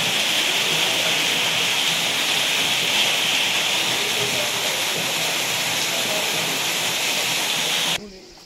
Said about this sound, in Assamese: প্ৰথমতে এইটো আছে ঝৰ্ণাটো